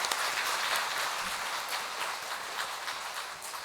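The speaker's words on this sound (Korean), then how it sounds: "먼저 마지막까지 이 자리에 불러주신 주님께 감사의 박수를 올려드리겠습니다." A church congregation at a Eucharistic devotion seminar gives a round of thankful applause, a broad, steady wash of many hands clapping that fades slightly toward the end.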